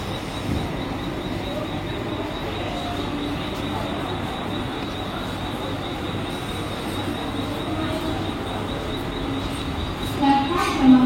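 A Mumbai local train rolls into a station platform with a continuous rumble and rattle of wagons, a faint steady whine and some distant crowd murmur, growing louder with squeaks near the end.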